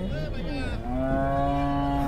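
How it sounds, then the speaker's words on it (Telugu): A dairy cow of good breed at a cattle market lets out one long, loud, close moo that rises and holds steady, with no pause, amid a faint market background. "బ్రీడ్ మంచిగా ఉంది చూడండి ఆవు"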